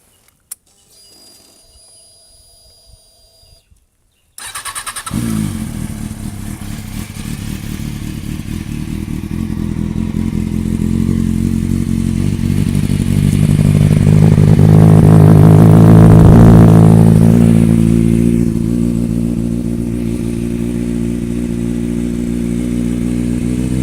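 A motorcycle engine cranks and catches after a few seconds of quiet, then idles loudly and swells into a long rev before settling back to a steady rumble, close by with no talk.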